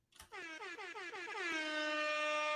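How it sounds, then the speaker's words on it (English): An air horn sound effect blasts in repeated quick pulses that rise in pitch, then holds as one long, loud, bright, brassy tone with no other sound around it. "those air horns go out to you"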